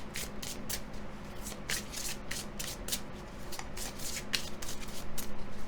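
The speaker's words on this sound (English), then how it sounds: "Let's draw a few of my butterfly cards." Butterfly tarot cards being shuffled by hand, a steady run of quick papery riffles and soft flicks, close and fairly quiet, with no talking.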